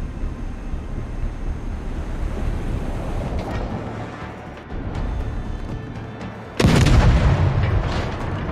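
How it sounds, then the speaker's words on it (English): Naval artillery booms out in the World of Warships video game over a rushing wind and ocean bed. One heavy, loud gun blast lands late in the sequence and then rumbles on. "Testing fire on the designated target"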